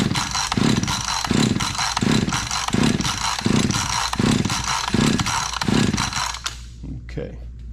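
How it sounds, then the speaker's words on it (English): A chainsaw's starter cord pulled ten times for a compression test without the throttle, each pull giving a rhythmic burst of engine cranking, steady and close, before the sound trails off. "So we're gonna pull it 10 times without mashing the throttle."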